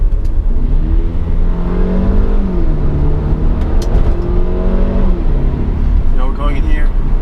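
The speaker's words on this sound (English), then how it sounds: "this car, it doesn't sound too bad, being the turbo 4-cylinder it is. It has a little growl to it" A Mercedes CLA250's turbocharged four-cylinder engine growls while driving, rising and falling in pitch as it revs, with someone talking over the engine throughout.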